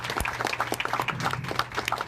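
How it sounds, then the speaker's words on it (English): Audience clapping at an evening conference event on artificial intelligence and life sciences, a moderate crowd applauding steadily as a guest walks to the stage, fairly close and without speech. "Keep clapping, she's still walking."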